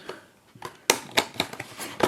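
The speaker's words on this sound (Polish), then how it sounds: "Otworzymy taśmę" Scissors snip and slice through packaging tape on a Lego Super Mario character pack box: a series of sharp, close crisp cuts and crackling tape sounds, irregular in rhythm and fairly quiet.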